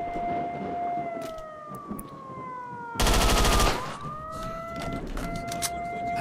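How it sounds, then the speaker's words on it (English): A wailing, pitch-sweeping siren from the S.T.A.L.K.E.R.: Shadow of Chernobyl video game rises and falls continuously, interrupted midway by a loud burst of rapid gunfire, with sharp shots scattered around it. "I gotta get rid of that infernal siren"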